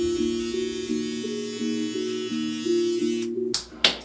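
An electric beard trimmer buzzes steadily as it passes over a beard, a close, even motor hum that cuts off abruptly in the final half second, followed by a couple of brief rustles.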